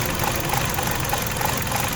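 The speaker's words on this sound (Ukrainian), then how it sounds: "Двигун працює погано." A car engine runs poorly at a steady, close idle, giving a continuous rough hum with faint irregular knocking and vibration throughout.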